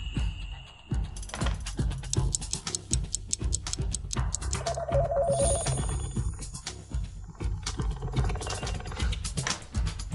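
An old-style telephone bell rings in short repeated bursts inside a busy setting, mixed with clattering and background activity, with no talk over it.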